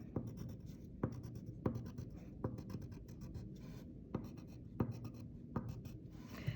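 A pen draws a dashed line on paper while graphing linear inequalities, making sharp, evenly repeated scratchy taps about every half-second to second, close and moderately quiet, with no talking.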